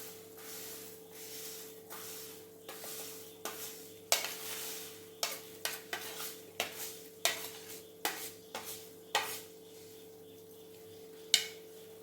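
Fried vermicelli tossed with vegetables in a pan for upma makes a rapid series of spatula scrapes and taps against the metal over a low hum, close and fairly quiet, with no speech.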